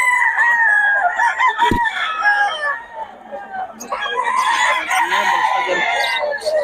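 Sweater bloodline gamefowl roosters crowing loudly and close, with overlapping crows and clucks and a sharp knock partway through, while someone talks over them.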